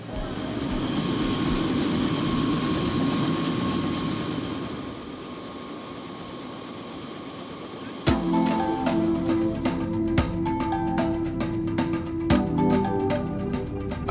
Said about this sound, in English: the flight by helicopter is the most impressive way to get to know the reef